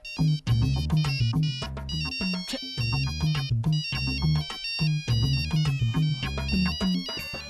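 A bright, repeating electronic ringtone melody plays loudly and continuously, looping its tune several times with no voices.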